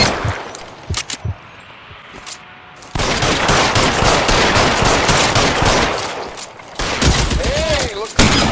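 Gunfire in L.A. Noire opens with a few sharp single shots, then becomes a loud, sustained barrage of rapid shots, with a short lull before more firing near the end.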